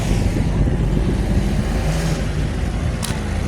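A vehicle driven by a man on a tourist ride in Taif, a steady close engine rumble running throughout with no pauses.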